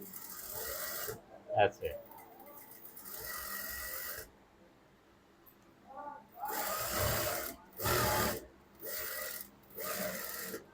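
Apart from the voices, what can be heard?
sewing machine stitching fabric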